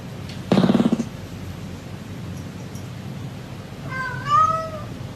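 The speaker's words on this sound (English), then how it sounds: "I need a cat that can tell me what it wants." A cat meows twice: a loud, close, harmonic meow near the start, then a softer, rising-and-falling meow near the end over a faint background hiss.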